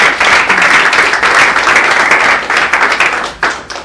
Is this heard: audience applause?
yes